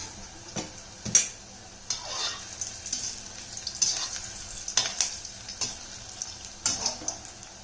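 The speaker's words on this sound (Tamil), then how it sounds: "அதனால் ஹையிலே வச்சு பொரிச்சிடுங்க" Chinese potato sticks frying in oil on high heat, a low steady sizzle broken by sharp clinks and scraping stirs of a utensil at irregular intervals, close by and with no talking.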